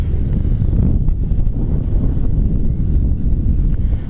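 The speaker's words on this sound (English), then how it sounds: "It's extremely windy." Strong wind buffets the microphone at a construction site beside a stormwater tank, a loud, steady low rumble that fills the whole stretch with no talking.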